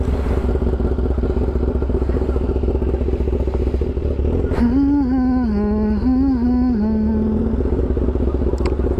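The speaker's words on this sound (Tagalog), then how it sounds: "So painitan tayo ng bike." A Suzuki Raider 150 motorcycle idles steadily nearby as its engine warms up, with a constant low rumble throughout and a brief rising rev wavering in the middle before the engine settles back to idle.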